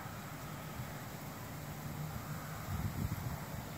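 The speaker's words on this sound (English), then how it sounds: "Rain, and it's really windy." Steady outdoor wind roars against the microphone in rain with a dull rumble and gusts toward the end. No distinct raindrops stand out.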